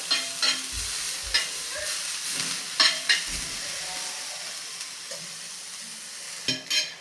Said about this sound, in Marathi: ह्या शिरा मी छान परतून घेतलेल्या आहेत